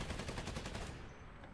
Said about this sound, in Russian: Продувка газов после выстрела.